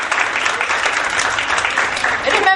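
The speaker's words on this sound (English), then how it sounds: "let's give them a big round of applause" Applause at a Montessori foundation teachers training workshop: a room full of people clapping steadily and loudly throughout, with a dense even patter and no break.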